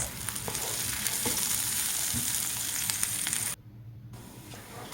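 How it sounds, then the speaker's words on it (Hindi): Garlic frying in a pan gives a dense, steady sizzle for a few seconds, then cuts abruptly to a quieter low hiss before the sizzle returns briefly at the end; no talking. "लहसुन को भी 2-3 मिनट में फ्राई करूंगी बस"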